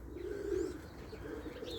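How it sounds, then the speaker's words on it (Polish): Racing pigeons coo in a loft on a cold day with a frozen pond nearby, a steady low throaty cooing close by with faint chirps above it and no talk. "Dobre gołębie"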